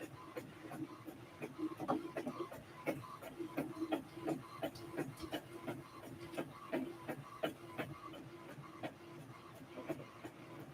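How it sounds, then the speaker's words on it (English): A printer scans and prints on a shaking table, giving a steady run of rhythmic mechanical clicks and thumps with a low rumble throughout, at moderate volume. "It does that when the printer works."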